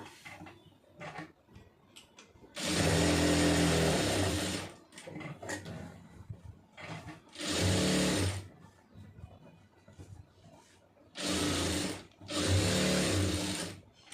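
A sewing machine stitching fabric runs in three separate bursts, with two longer runs and a final double burst, loud and close, with quiet pauses between.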